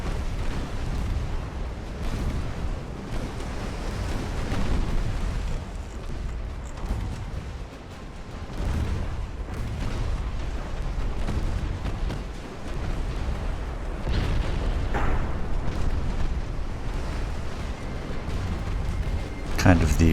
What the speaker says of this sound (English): we see another salvo coming in.